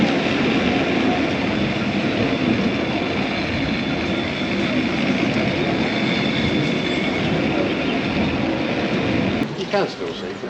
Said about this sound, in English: we've just descended via the cliff railway there, a funicular railway powered by water, built in 1888